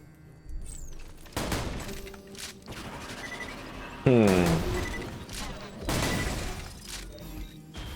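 Heavy shots from a high-damage, low-projectile-count gun in Borderlands 2, one that wounds its user when fired: several loud booming blasts with a shattering crash on each, and a voice talking over them.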